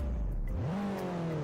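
Mercedes C63S AMG engine, a biturbo V8, in the Car Driving Indonesia game, heard as a brief rev that drops low then rises into a steady hum at moderate volume with no talk.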